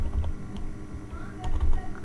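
Typing on a computer keyboard while entering database fields, heard as a short run of soft, close key clicks at an uneven rhythm over a quiet room background.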